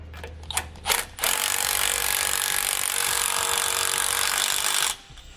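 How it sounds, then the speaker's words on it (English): Power tool whirring steadily for about four seconds while hardware is tightened with a 16mm wrench and 18mm socket during a Roadmaster rear anti-sway bar install, preceded by a few short clicks and rattles of metal. "we can tighten down our hardware using a 16mm wrench and an 18mm socket."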